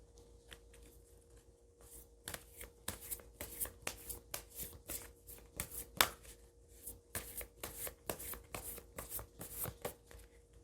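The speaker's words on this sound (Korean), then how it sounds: "조언 카드를 뽑아보도록 하겠습니다" Tarot cards riffled and shuffled by hand in a quiet room, a rapid series of crisp papery flutters and taps with brief pauses, close and fairly soft.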